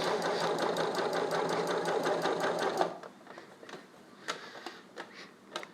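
A sewing machine stitches spandex for a Spider-Man test mask in a rapid, loud, even run of needle strokes for about three seconds, then stops, leaving a few faint clicks and handling sounds.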